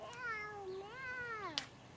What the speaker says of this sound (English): I don't know where that kitty cat is